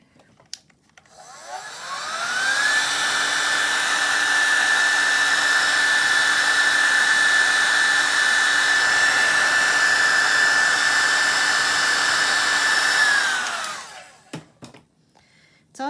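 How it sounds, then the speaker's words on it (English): A hair dryer drying watercolor paint switches on, blows with a steady whirring roar for about ten seconds, then winds down and clicks off. "It's always handy to keep a hairdryer or a heat gun around when you're doing watercolor to help those layers dry"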